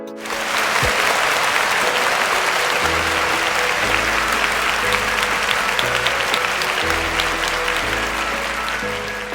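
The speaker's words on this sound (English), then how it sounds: "give a round of applause to your class's class reps for each language cohort" Audience at a student government ceremony applauds the newly announced class representatives for each language cohort, a steady dense wash of clapping that holds loud and even throughout.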